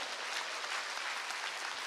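A church congregation at an evening spring mountain revival meeting applauds steadily, a dense, continuous wash of many hands clapping with no pauses, filling the whole moment at even loudness.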